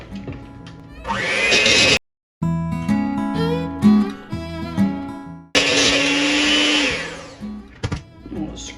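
Electric hand mixer beating fresh lemon juice into coffee cake batter, loud whirring bursts with a brief pause, then clinks and scrapes against the bowl before the motor whirs again.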